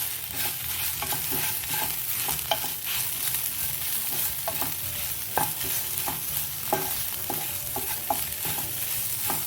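Okra stir-fry seasoned with pepper powder, chilli powder and salt is stirred in a hot pan, giving a continuous soft sizzle broken by repeated scraping strokes of a spoon at an irregular pace, close up with no talking.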